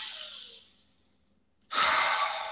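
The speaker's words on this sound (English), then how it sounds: "Breathe." Deep, slow breathing close up during a guided grounding meditation: a long airy exhale that fades into silence, then a fresh breath in and out after a brief pause.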